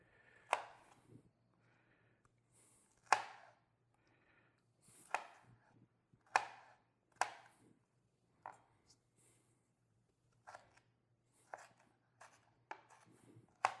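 Knife dicing a tomato into small cubes on a cutting board, a series of sharp distinct chops spaced roughly a second apart, fairly close and clear, with a faint steady hum underneath.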